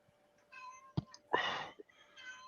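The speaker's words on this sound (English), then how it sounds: "Was that you or was that the cat making that noise?" A cat in pain cries out with a strained, drawn-out meow, faint and indoors, amid soft murmuring voices and a few brief knocks.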